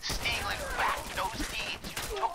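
Gunfire in the video game Fallout 4, a quick burst of shots mixed in with a voice talking over the game.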